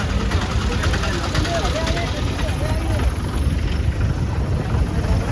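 A tractor engine running at a Rajasthan village fair, a loud steady low rumble and knock that holds throughout, with people talking over the crowd noise.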